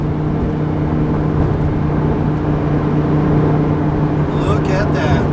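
A blue twin-turbo Lamborghini Huracan drives along, its engine and road noise forming a steady, even drone that runs unbroken from start to finish, with faint voices underneath.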